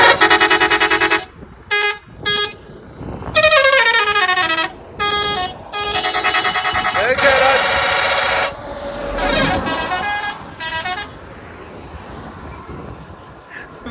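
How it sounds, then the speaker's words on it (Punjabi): A truck's horn on a Dubai road blares in repeated long, loud tonal blasts separated by short gaps, with road noise underneath. "ਹਾਰਨ ਮਾਰਦਾ।"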